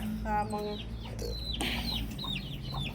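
Native country hens cluck and chirp in short bursts over a steady low background hum, with a few higher calls scattered through.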